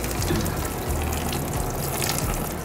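Coolant gushes from an Aprilia RSV4 Factory radiator into a bucket, a steady, close liquid pour with a low rumbling splash running continuously throughout.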